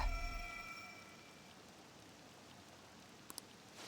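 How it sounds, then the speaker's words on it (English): Soft, steady rain patters in the background of the video game Persona 5 Royal after a brief tonal sound fades out, with a couple of faint clicks near the end. "This rain ain't too bad."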